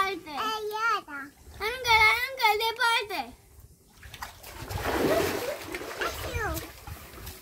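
Water balloons thrown into a swimming pool make splashes and sloshing water, heard after someone talks.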